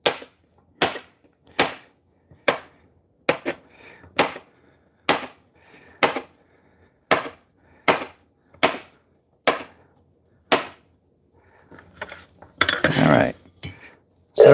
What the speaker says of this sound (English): I just want to cut the ends off of these, and then we're going to cut these into a couple of inch pieces.